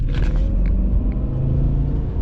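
A car drives along a road toward a farm, a steady low engine and road rumble carrying throughout with no talk.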